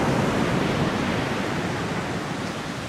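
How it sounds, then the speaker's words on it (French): Ocean waves on an Indian Ocean beach produce a loud, continuous broadband surf roar that eases slightly toward the end, with some wind noise and no talk. "Regardez-moi cette formation de vagues."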